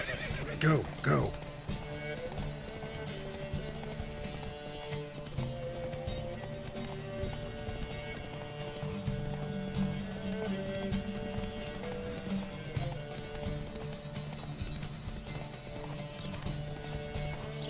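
Horses gallop with rhythmic clip-clop hooves and a loud neigh near the start during a horse race in the video game The Witcher 3, with voices and game music underneath.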